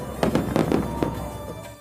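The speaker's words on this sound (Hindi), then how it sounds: "तो आसमान के अंधेरे को आतिशबाजी से रोशन किया जाता है।" Fireworks burst over the Ganges ghats of Kashi during the Dev Deepawali festival, several sharp crackling pops in quick succession followed by a fainter last one, loud and close with no voices.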